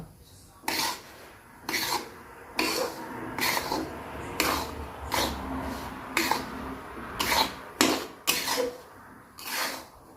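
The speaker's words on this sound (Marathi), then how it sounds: "हे बघा व्यवस्थित असं आपण भाजून घ्यायचं आहे हां रवा" Semolina (rava) dry-roasts in a pan for ladoos while a spoon stirs it, giving about a dozen rhythmic scraping, rasping strokes at close range over a quiet background.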